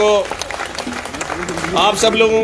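Audience applause at a public gathering, mixed under a man's loud speech that carries on throughout the short stretch of clapping.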